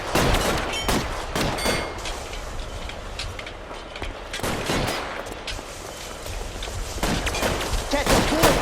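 Gunfire in the video game LA Noire, with repeated loud shots and bursts cracking over a rumbling, busy background, close and dense throughout.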